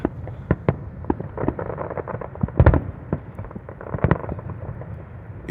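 Fireworks going off all around at night, a rapid, irregular string of sharp cracks and booms, some close and loud, others softer and farther off, layered over a low rumble.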